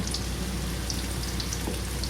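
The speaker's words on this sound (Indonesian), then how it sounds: "Tahap berikutnya saya akan menggoreng tempe." Tempeh frying in oil in a wok, a steady dense crackle and sizzle with scattered pops, continuous and close throughout, with no talking.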